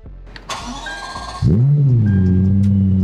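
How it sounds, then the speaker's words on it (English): A Lexus LFA engine cranks briefly after some soft clicks, then catches and settles into a loud, steady idle. "we'll start the engine, but you get to hear the F1 sound of this car"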